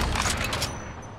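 Quick burst of gunfire in the video game Apex Legends Mobile, a few close, sharp shots in rapid succession that trail off within about a second.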